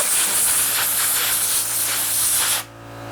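Compressed air hisses loudly and steadily as it sprays onto a freshly stained woodworking project, a continuous close blast lasting over two seconds before cutting off abruptly.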